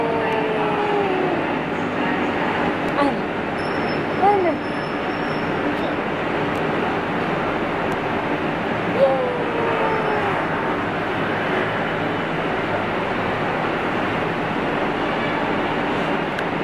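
Continuous rumbling and rolling hum of a moving MRT metro train, with faint squeals and clunks now and then and brief murmurs of nearby voices.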